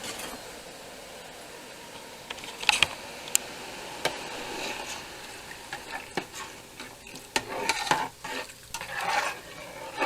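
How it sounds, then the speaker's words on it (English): A spatula stirs a pot of soup being brought toward a boil, giving scraping, clattering strokes and soft bubbling at close range, with several sharper knocks of utensil on pot and no talking. "Give this a nice stir."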